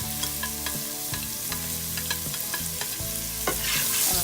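Onions sizzling loudly in a pan for an aloo mutter curry of potatoes and peas, with repeated scraping stirs of a spoon against the pan over a steady frying hiss, up close and with no voices.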